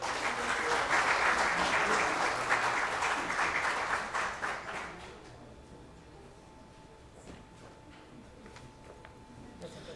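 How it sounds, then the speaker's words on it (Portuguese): At a public hearing in Vitória's city council about the sewage network, the audience applauds the councillors with loud, full clapping for about five seconds before it fades into quiet room noise. "Uma salva de palmas."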